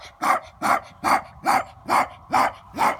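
A dog barks in a steady series of seven evenly spaced, loud, close barks, with no other sounds or talking around them.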